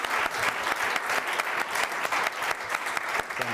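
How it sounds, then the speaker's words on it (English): Sustained applause from a crowd, dense steady clapping filling the whole stretch without letting up. "We'll make a first applause for that."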